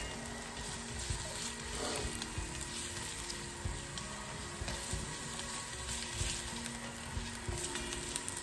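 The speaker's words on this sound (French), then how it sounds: "L'ail et l'oignon qui sont en train d'être revenus" Garlic and onion sauté in a pan with a soft, continuous sizzle and crackle, a little distant, accompanied by faint clinks and a low background hum.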